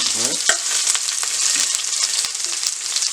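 Onions frying in a pan while cooking a bichique rougail with mango, a loud, close, continuous hiss with a few stirring knocks and a brief voice at the start.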